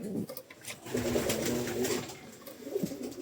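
Soft, throaty cooing of pigeons, a low rolling coo repeated close by with faint rustling around it.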